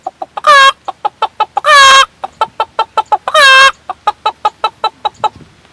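Hens cluck close by in a quick, steady series of short notes, broken three times by longer, louder squawking calls.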